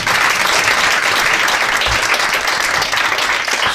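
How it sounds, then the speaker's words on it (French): Sustained, dense applause from a live audience at a French comedy show, loud and continuous for several seconds with no speech over it. "on peut l'applaudir aussi."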